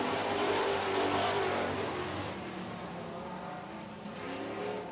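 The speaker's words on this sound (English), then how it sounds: "Here we go racing, super truck style." Super trucks racing on an oval track: a loud, continuous roar of several engines mixed together, swelling and easing slightly as the pack passes, with no talk over it.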